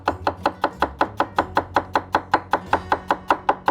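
A chef knife rock-chops celery on a cutting board in a steady, even rhythm of about sixteen crisp, close knocks, with no talking.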